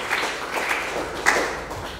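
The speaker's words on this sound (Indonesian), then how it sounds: "Kita kasih tepuk tangan dulu untuk Tuhan Yesus." A church congregation claps in a dense, continuous wash of applause that holds steady for a couple of seconds, with a few sharper claps standing out.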